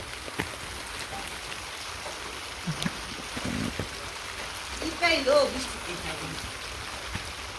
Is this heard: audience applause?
no